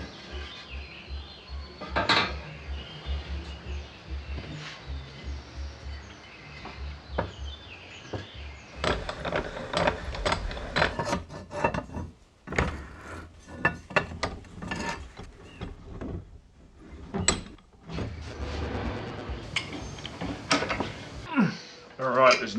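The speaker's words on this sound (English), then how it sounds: "clamp it into place." Metal jig parts are clamped into place during a Series 1 Land Rover restoration, giving irregular close clanks, ratcheting clicks and scraping knocks, with a person talking intermittently between the sounds.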